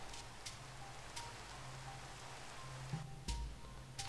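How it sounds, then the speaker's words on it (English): Steady rain falls through a forest in Minecraft, a continuous soft hiss at low volume with a few brief clicks and thumps over it. "Well, it's definitely raining, I'll say that."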